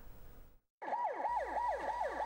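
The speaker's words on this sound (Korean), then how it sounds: "사이렌이 울리고 구급대가 연이어 출동합니다." Ambulance siren as a rescue team dispatches: a wailing electronic siren starts after a brief silence, sweeping up and down in steady repeated cycles, fairly close, over a low engine rumble.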